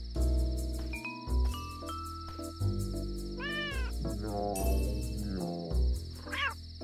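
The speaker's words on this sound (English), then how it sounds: "Yep, it's Momo's meow." A cat in the Dave the Diver video game meows several times in short rising cries over a layer of steady game music and chiming tones, with no speech.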